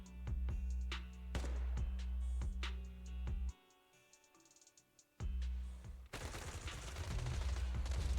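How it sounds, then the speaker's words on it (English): Suppressive marching gunfire in the video game Zenless Zone Zero, sharp repeated shots in irregular bursts over a droning background, briefly dropping to near quiet before resuming with a noisier, denser volley. "Gunfire? This pattern. Suppressive marching fire."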